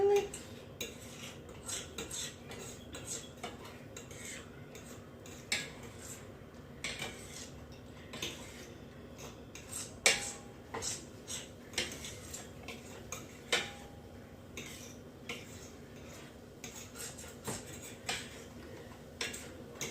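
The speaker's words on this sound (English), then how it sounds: "I'm just, you know, moving it around the skillet. I am using my fork" A fork scraping and tapping against a skillet while eggs are stirred, giving light irregular metallic clicks and ticks over a steady faint sizzle, fairly close and quiet, with no talking.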